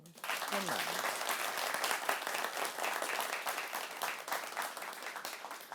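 Sustained applause from a large audience at the 2023 TVJ Schools' Challenge Quiz grand final in Jamaica, dense and steady clapping throughout, with a brief voice audible at the start.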